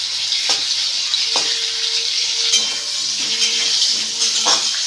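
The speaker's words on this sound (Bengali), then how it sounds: "তাহলে মা এটা একটু ভেজে নিচ্ছে" Potatoes fry in a pan over medium to high flame, giving a bright hissing sizzle close by, punctuated by a few light metallic clinks of a utensil against the pan.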